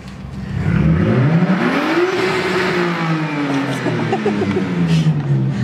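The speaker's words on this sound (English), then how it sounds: "It's Sean doing burnouts in my car park." A car doing burnouts in a car park, its engine revving up and down in long rising and falling sweeps that stay loud and steady throughout, with tyre noise mixed under the roar.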